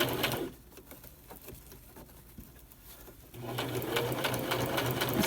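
A sewing machine stitches slippery red silk in quick, steady mechanical runs, slowing and quieting briefly in the middle before picking back up, heard close with soft bird cooing in the background.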